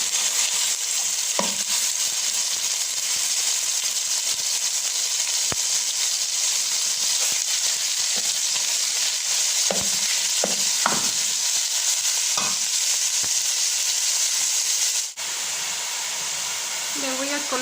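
A kilo of ground beef frying in oil in a hot pot, a loud continuous hissing sizzle held steady for a long stretch, broken by occasional scrapes and taps of a utensil.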